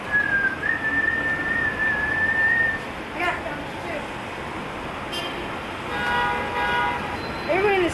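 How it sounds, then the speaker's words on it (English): Car horns honk in busy Madrid street traffic, a long sustained tone early on followed by shorter toots and whistle-like blasts over constant city noise, with voices nearby. "Everyone in the city honks their horn."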